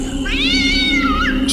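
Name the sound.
cat meowing loudly at night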